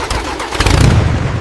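A cartoon tractor engine cranks and catches on a farm, its mid-pitched rumble building from a short sputter into a steady loud running chug with no talk over it.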